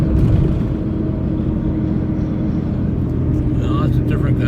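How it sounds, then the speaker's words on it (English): Heavy duty vehicles rumble loudly and continuously past at an outdoor tool show, with gusty wind noise, and a voice briefly speaks over it. "Vehicles over there, heavy duty vehicles."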